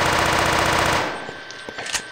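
A Halo assault rifle fires in Guncraft, a loud, dense burst of rapid automatic shots for about a second before it cuts off. A few faint scattered clicks and impacts trail after it.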